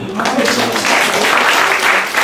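An audience at a meeting of a national caregiver training institutions association applauds, a continuous full round of clapping from many people at fairly close range, steady throughout.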